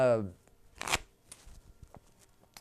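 Tarot cards being shuffled, a short, close riffling burst after a spoken voice, followed by a few soft card taps and slides.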